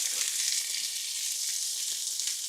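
Diced peppers and onions sizzle steadily in olive oil in a frying pan, a close, even hiss with light crackles and no talking.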